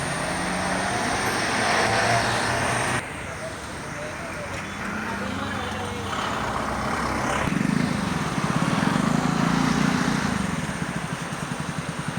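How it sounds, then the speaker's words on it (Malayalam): A St. Thomas bus passes along a road in Kerala, turning here on its way toward Ranni. Its engine rumble rises and grows loudest near the end, mixed with general traffic noise while someone talks over it. "സെൻറ് തോമസ് ബസ്സും വന്നു ഇപ്പം പോന്നു"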